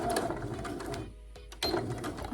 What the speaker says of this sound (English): And then you're gonna back stitch